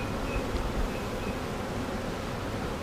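Honeybee colony humming during a routine hive inspection, a soft, steady, low drone of many bees close by with faint individual buzzes drifting past, no talking.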